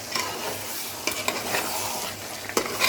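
Biryani masala with soy sauce being stirred in a hot pan, a steady sizzle of frying spices broken by a few sharper scrapes of the spoon, close and alone.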